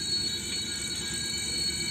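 Steady rumble of a train rolling along its rails, a continuous close mechanical drone with high ringing tones and no voices.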